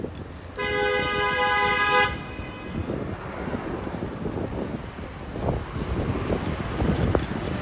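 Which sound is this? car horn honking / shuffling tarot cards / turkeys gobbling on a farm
car horn honking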